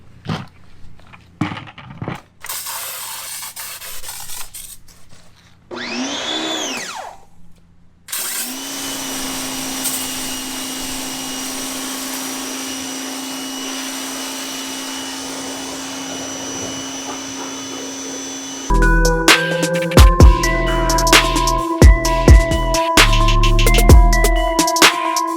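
A VE52 power washer with a 25-foot hose sprays a Jeep Gladiator Mojave. Loud, steady motor and spray noise changes character partway through and grows harsher and more pulsing near the end.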